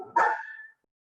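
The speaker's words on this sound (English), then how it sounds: "We need to do something about the dog." A dog gives a single short bark that trails into a brief whine, fairly close and alone, followed by silence.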